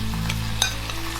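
Minced pork with chopped garlic, ginger and scallion whites frying in a wok gives a steady, close hiss of oil with a faint scrape of stirring, no voices.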